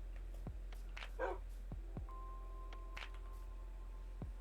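Puppy barks from the Minecraft video game come as several short, quick yips spaced irregularly, faint and thin over a low steady hum, with no talking.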